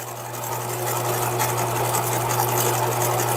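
A sewing machine sealing the last side of a dress for a vintage Sweet Sue doll, with a steady close mechanical whir and an underlying hum running continuously throughout.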